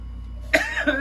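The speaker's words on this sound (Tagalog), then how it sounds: "Inuubo ako sa'yo." A single short cough or throat clear from a man in the middle of a playful argument, sharp and close, rising out of a quiet room.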